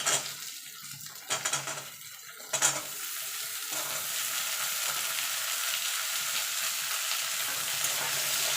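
Sliced bitter gourd and pumpkin fry in oil in a pan with a steady, bright sizzle, interrupted early by a few stirring scrapes before settling into a continuous hiss.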